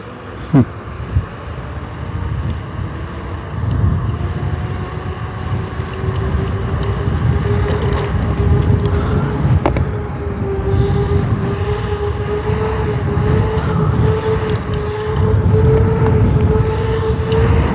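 Strong, steady wind roar and motor whine from an OOTD T10 electric scooter riding fast around 30 mph, loud and continuous with a rising whine throughout.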